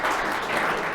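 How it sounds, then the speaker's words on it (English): Audience applause after a conference talk, a brief, steady wash of many hands clapping at moderate loudness, heard alone for about a second. "Applause, please."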